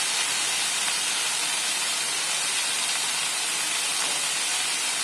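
Moth beans, green peas and chickpeas sauté with onion in a pan, giving a dense, even sizzling hiss that holds at steady loudness from start to finish with no voices.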